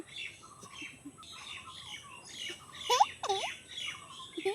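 Several small birds chirp and squawk near a tree, with short scattered calls that get louder and more sweeping toward the end. Close but soft, alone with no talk.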